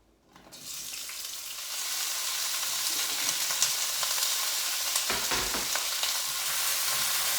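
Vegetables sauté in hot cooking oil in a soup pot for ham and bean soup, a steady close sizzle that swells after the first second and holds loud and continuous, with occasional stirring.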